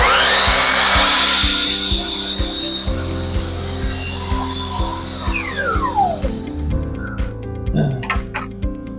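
A power saw set to 45 degrees trimming wooden door casing, a loud whining cut that spins down, followed by clattering knocks of the wood and tool nearby.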